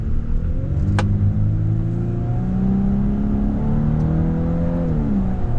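2025 Volkswagen Atlas SEL with a 2-liter engine accelerating under load in a 4,700-pound SUV, a steady droning rise in engine pitch with gear shifts, heard from inside the cabin.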